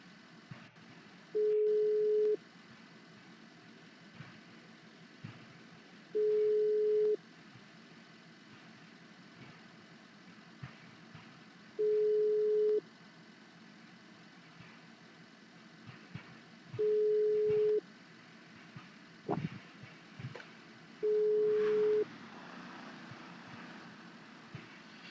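In a GTA roleplay game, a telephone rings out with five evenly spaced electronic tones, each about a second long, separated by pauses of roughly four seconds over quiet background noise.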